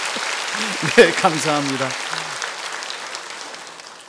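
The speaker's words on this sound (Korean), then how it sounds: "이 정도 되면 박수를 한번 쳐주시든지 격려해 주시면" A church congregation breaks into applause under a voice that speaks briefly near the start. The clapping continues as a moderate wash and slowly fades.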